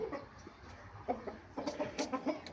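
A 4.5-kilo fighting rooster, a proven bird with a small crack on one foot, gives a series of short, fairly close clucks that grow busier in the second half over faint background noise.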